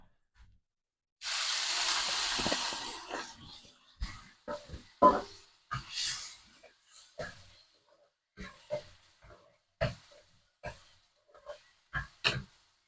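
Onions frying in a pan for a beetroot stir-fry, a steady sizzling hiss that starts suddenly and fades, followed by scattered stirring clicks and knocks.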